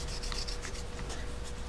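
Steady rubbing rasp of fine-grit sandpaper worked over faded paint on a Porsche body panel, continuous short strokes, close and moderately quiet.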